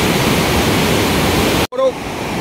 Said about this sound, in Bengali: এই যে জলের স্টোর রয়েছে।